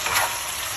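Pork for sweet and sour pork sizzling in a hot pan while being stirred, a brief, steady frying hiss.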